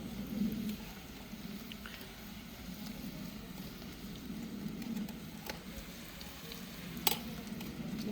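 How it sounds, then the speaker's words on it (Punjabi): Grated carrots roast in desi ghee for a halwai-style gajar gajrela, giving a soft, steady sizzle throughout with a faint scrape or clink near the end. "ਫਿਰ ਆਪਾਂ 5-7 ਮਿੰਟ ਇਹਨੂੰ ਇਸ ਤਰ੍ਹਾਂ ਭੁੰਨ ਲੈਂਦੇ ਹਾਂ"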